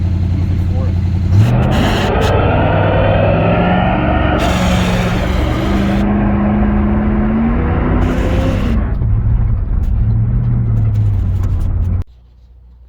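A 1983 square body truck engine revs hard in repeated loud, rising and falling bursts for a burnout, close by, with voices talking over parts of it before it cuts off near the end.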